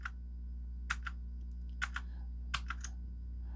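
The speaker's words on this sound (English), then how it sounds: "And these are clicky blue switches." Clicky blue-switch mechanical keyboard being typed on in short bursts of sharp keystrokes, three quick clusters separated by pauses over a steady low hum, close and fairly quiet.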